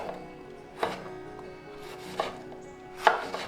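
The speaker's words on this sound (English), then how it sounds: "Chopping mangoes and other colorful veggies." A knife chops mangoes and brightly colored vegetables on a board, giving three sharp separate strikes spaced about a second apart over a low steady kitchen background.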